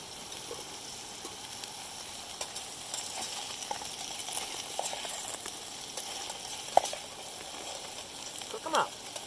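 Mushrooms sizzle and fry in a pan at a camp meal on the Appalachian Trail, a soft, steady crackle that stays faint throughout, with a couple of sharper pops near the end.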